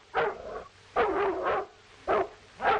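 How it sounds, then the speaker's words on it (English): A dog barks in a 1936 western film, four distinct barks with some doubled, loud and fairly close, spaced evenly across a couple of seconds with quiet gaps between. "That dog isn't barking for nothing."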